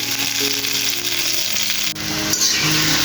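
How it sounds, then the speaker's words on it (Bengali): Boiled pointed gourd and potato frying in oil in a home kitchen, giving a steady, close sizzle that runs throughout, with a faint tonal hum in the background. "সেগুলো এখন একটু তেলের মধ্যে একটু ভেজে নিতেছি"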